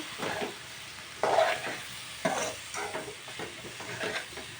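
Spices are stirred in a hot frying pan while making drumstick dappalam, giving a soft sizzle broken by a few scraping strokes of a spoon, fairly quiet and close, with no talking.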